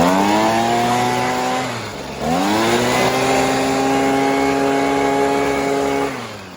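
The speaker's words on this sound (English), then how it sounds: "so we're going to use the blower real quick" A loud, steady engine-driven blower clears debris off a John Deere mower deck, droning close up, briefly dropping in pitch and volume before surging back up and then falling away at the end.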